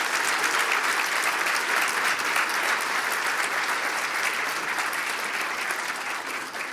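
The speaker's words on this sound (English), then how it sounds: "so can we get a round of applause first?" Conference audience after a Python talk gives a steady, full round of applause, dense and moderately loud, holding evenly before tapering slightly near the end.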